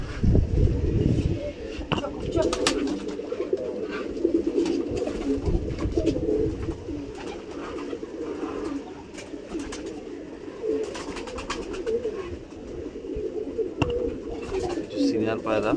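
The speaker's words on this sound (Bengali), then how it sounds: "সব ধাড়ি পায়রা এগুলো।" A flock of adult pigeons coos steadily and close by in a dense, overlapping chorus, with soft fluttering and ambient murmur underneath throughout.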